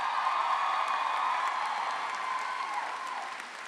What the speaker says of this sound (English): I'd also like you to turn back this way and applaud the faculty sitting here